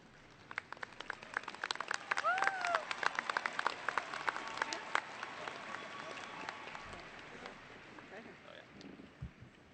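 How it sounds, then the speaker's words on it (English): Audience applause at a high school graduation ceremony. A steady wash of clapping that is fairly faint and distant builds over the first seconds, then gradually thins out, with some voices mixed in. "Thank you for all the applause"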